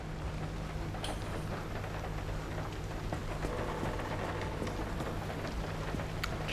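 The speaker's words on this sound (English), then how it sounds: "Charming, it's raining again." Steady rain in the video game Pacific Drive pours down in a continuous hiss, with a low rumble underneath and no one speaking.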